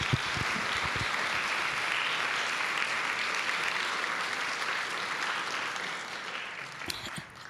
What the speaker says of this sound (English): You guys want to give her an applause?